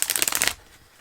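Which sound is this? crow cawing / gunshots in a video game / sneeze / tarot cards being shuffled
tarot cards being shuffled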